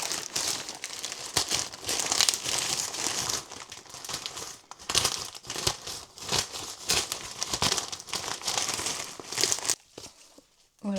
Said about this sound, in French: j'ai une flopée d'enveloppes comme ça, qui sont des enveloppes bullées